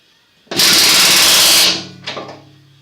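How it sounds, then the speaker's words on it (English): An air compressor starts in a workshop where grease nipples are being lubricated. A loud, broad whoosh holds for about a second, then eases into a steadier, lower motor hum with a brief rattle near the end. "Come on, kick in there, compressor."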